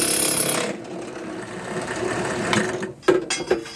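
A power drill bores holes outdoors at night, a loud continuous buzzing whine that drops out near the end, followed by a few short mechanical bursts.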